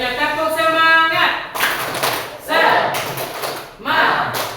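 A classroom group does a rhythmic spirit clap in quick bursts of hand claps, loud and close, after a single sung call at the start.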